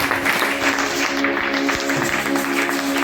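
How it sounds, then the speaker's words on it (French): Congregation applauding during a church service, a dense, steady wash of clapping that holds at an even level from start to finish, with no distinct speech above it. "Acclame Jésus."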